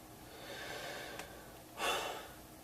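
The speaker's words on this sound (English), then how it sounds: "had to clear my throat" One short, rough burst of someone clearing their throat stands out against faint background hiss, with a small click just before it.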